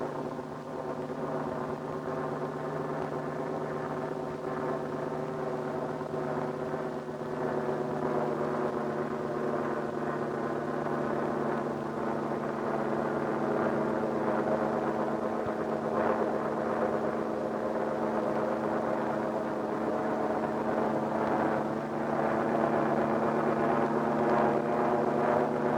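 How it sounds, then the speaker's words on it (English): A fish spotter plane flies over a salmon fishing fleet at dawn, its propeller engine a steady low droning hum with layered tones, holding at a moderate distance and rising slightly in loudness, with no voices. "the plane takes off early to guide them"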